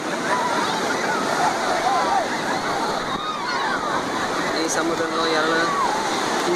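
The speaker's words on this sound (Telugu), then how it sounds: "సముద్రంలో అలలు చూస్తుంటే చాలా వింతగా ఎగిసి పడుతున్నాయి. ఒకే ఒక రకమైన సౌండ్ వస్తుంది ఇక్కడ." Sea waves surging onto Mahabalipuram beach, a loud continuous roar and wash of surf close by, with faint voices in the background.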